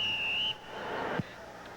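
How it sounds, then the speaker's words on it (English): Referee's whistle at a New York Knights versus Los Angeles Cobras football game: one sharp, steady whistle blast lasting about half a second, then cut off. Low crowd and arena noise continues after it, with a single dull thump. "Boy, that whistle's loud, Verl."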